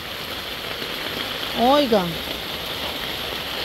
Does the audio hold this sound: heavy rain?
yes